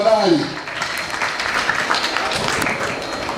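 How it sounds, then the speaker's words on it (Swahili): Audience applause at a college graduation ceremony in a stadium, a dense wash of many hands clapping at a distance, with a voice speaking over the start. "tumpigie makofi mzuri tafadhali"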